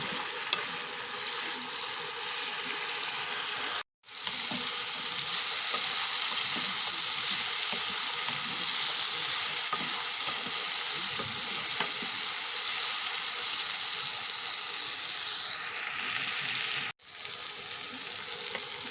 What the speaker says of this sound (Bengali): আলু পটল ভালো করে ভেজে নেব।